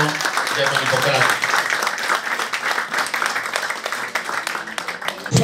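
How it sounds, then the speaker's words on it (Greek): Audience applause at a Greek association's New Year pie-cutting event, a dense steady wash of clapping from a crowd sustained throughout, loud and close, with some voices mixed in. "Ένα μεγάλο χειροκρότημα."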